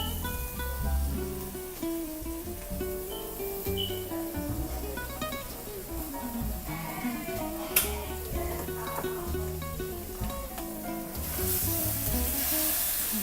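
Skewered shrimp hit a hot pan and sizzle loudly and steadily, with a continuous close-up frying hiss over music playing in the background.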